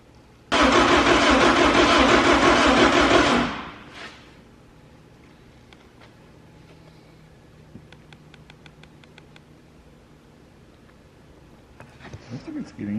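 A car engine on a vehicle with a missing cam signal bursts into a loud, harsh roar for about three seconds, then drops off abruptly, leaving quiet background ticking and scattered clicks.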